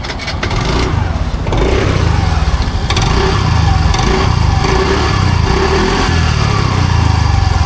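A TVS Jupiter ZX scooter from 2019, a limited edition, runs steadily with a deep, bassy engine and exhaust note, loud and close, holding an even drone throughout with no talking over it.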